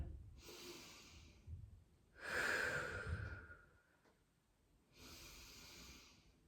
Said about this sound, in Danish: Og tag 3 dybe åndedræt her.